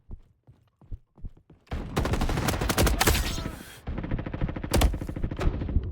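Gunfire in the Roblox video game: a few sparse shots, then dense rapid automatic bursts that run loud and continuous, close in the mix, with no speech over them.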